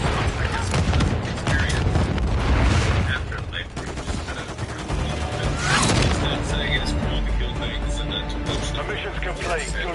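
Call of Duty MW3 gameplay full of rapid gunfire and booming blasts, with one grenade detonating as a sharp burst midway, set against ongoing game noise and voices.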